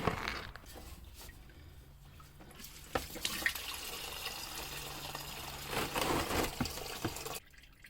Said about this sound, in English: I'm not gonna have you guys sit here and watch the coolant drain, which does take a while